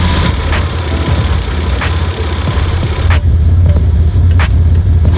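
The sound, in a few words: Ford Probe GT engine idling roughly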